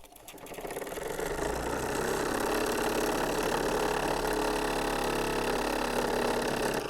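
A small Jensen or Mamod live steam stationary engine runs at full throttle, a fast, even mechanical chatter and hiss that builds in the first second and then holds loud and steady.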